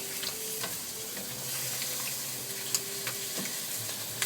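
Korat-style rice noodles stir-fried in a pan, a steady close sizzle with scraping and tapping of the utensil against the pan, no talk.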